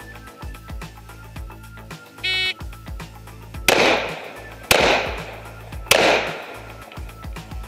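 Three loud, sharp pistol shots are fired one-handed with the weak hand at targets in an IDPA classifier stage. They come about a second apart, each with a short echoing tail, after a brief electronic start beep.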